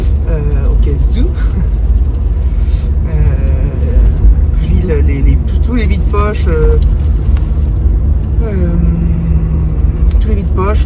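Low, constant road rumble fills the inside of a moving car, heavy and steady throughout, with someone talking over it.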